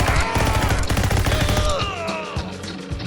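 Rapid gunfire from pistols and Tommy guns in a VR wave-shooter game, dense overlapping bursts and cracks with a steady loud barrage throughout.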